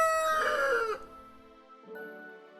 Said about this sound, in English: He had crowed with a loud cock-a-doodle-doo to greet them.